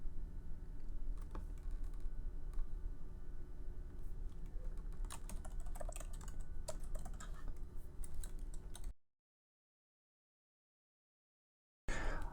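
Typing on a computer keyboard while filling in form fields, a quiet run of irregular key clicks in short bursts, then a stretch of silence before a brief return of sound.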